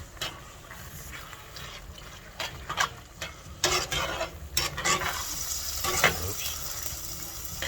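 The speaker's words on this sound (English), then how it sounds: "Stir that up together." Lasagna ingredients being stirred together in a pan, giving a steady soft scraping and sizzling texture with irregular louder scrapes and clinks, close up and without talk.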